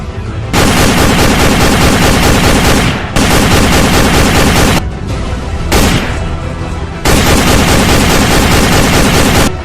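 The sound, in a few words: bomb explosion effect in comedy film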